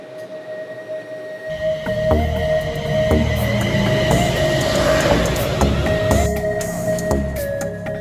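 A train rolls through a station with a deep rumble, a high tonal squeal and clanking wheels, loud and close.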